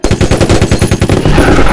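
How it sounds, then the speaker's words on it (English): Machine gun fire from the Jurassic World film, a loud rapid burst of evenly spaced shots that blur into a dense roar by the end. "Those bullets don't do anything,"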